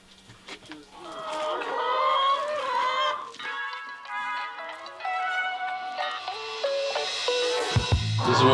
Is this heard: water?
no